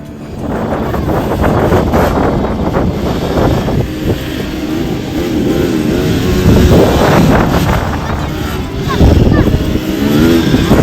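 A vehicle engine drives over hilly terrain, a loud, continuous rumble with gusts of wind buffeting the microphone and rising surges of revving, while voices talk over it.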